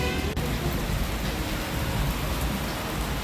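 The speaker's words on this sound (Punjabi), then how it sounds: "ਪਿਛਲੇ ਅੱਧੇ ਪੌਣੇ ਘੰਟੇ ਤੋਂ ਮੀਂਹ ਪਈ ਜਾ ਰਿਹਾ" Steady, close rain pours without pause at a roadside stop by Gurdwara Sahib Nagrasu on the way back from Hemkund Sahib to Punjab, a dense even hiss with no voices.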